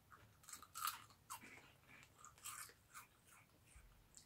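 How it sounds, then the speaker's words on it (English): Crunching an onion-flavoured American candy snack, crisp bites and chewing crackles up close at a quiet level with no talk. "I'm trying the onion one."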